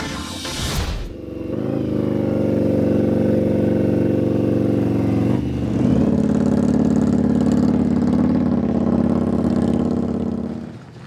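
Indian Workhorse Appaloosa motorcycle engine on the frozen lake strip at the Baikal Mile: a loud, close, sustained rumbling drone that climbs through the gears, with a brief dip and shift midway before pulling hard again, no talk.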